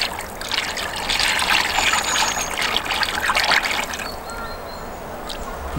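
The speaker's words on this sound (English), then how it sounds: "so you just have to be a little bit careful about the way you pour it in" Heavy sugar syrup is poured into a beehive feeder, a close, continuous liquid trickle and splash that thins to a lighter dribble toward the end.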